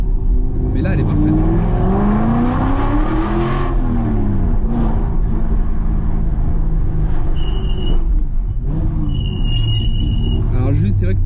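An Aston Martin V8 Vantage engine revs loudly up close, with rising and falling engine pitch sweeps, while someone talks and exclaims over it.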